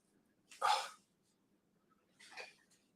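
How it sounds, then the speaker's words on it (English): Two short, faint dog barks spaced a couple of seconds apart, sounding somewhat distant over near silence. "The dogs were barking."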